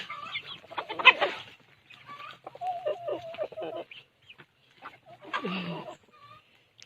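Chicken clucking in a pig pen during cleaning, several short bursts of calls spread over the clip, moderately close, with rustling and handling noise between them.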